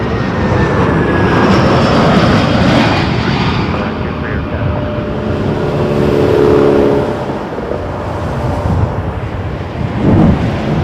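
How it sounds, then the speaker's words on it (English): An Air Canada Airbus A330 jet arriving at Toronto Pearson Airport roars loudly and steadily, a broad engine rumble with whining tones that swells and eases slightly over the span. "I did see across the way we got an Air Canada A330 coming in on runway 23"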